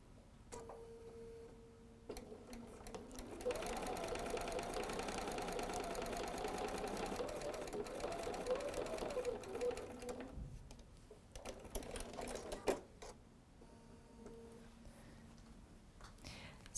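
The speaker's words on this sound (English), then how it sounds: "we'll go to our machine, and we're just going to be sewing a standard 1/4 inch seam allowance" Sewing machine stitching a quarter-inch seam in cotton fabric: a steady, rapid mechanical whir and tick that runs continuously for several seconds, with quieter handling noises before and after, close and fairly soft.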